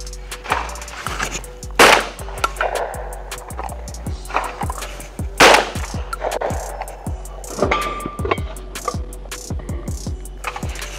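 A Girsan MC312 Sport semi-automatic shotgun fires at clays outdoors, with two loud, sharp blasts a few seconds apart among clicks and handling clatter.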